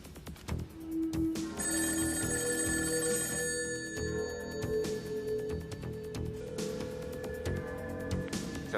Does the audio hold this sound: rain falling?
no